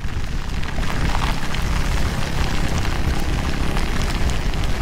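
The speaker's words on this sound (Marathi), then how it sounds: "पण तुफान पाऊस पडतोय बघा ना." Heavy monsoon downpour on the Mumbai–Goa highway, a steady, loud wash of rain drumming on the vehicle and road that never lets up, with no speech heard.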